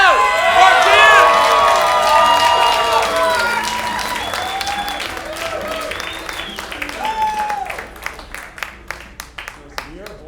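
A comedy club audience applauds and cheers as a comedian takes the stage at a bootcamp show, loud dense clapping with whoops that fades into scattered claps while people talk over it.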